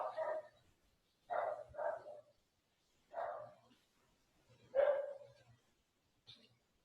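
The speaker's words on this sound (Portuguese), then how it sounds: "Desconsiderem os latidos do cachorro" A dog barks indoors in a series of five or six separate barks, a single and a double bark and then sharper single ones, loud and near with quiet gaps between, ending with a fainter yip.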